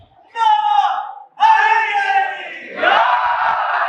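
A crowd at a religious majlis gathering raises loud chanted slogans in unison, two strong bursts of massed voices with a short pause between, close and forceful.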